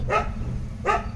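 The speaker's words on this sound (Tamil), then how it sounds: "நல்ல நாய் தான், ரொம்ப ஃப்ரெண்ட்லியான நாய்." An injured dog that was hit by a vehicle gives two short, close barks about three-quarters of a second apart.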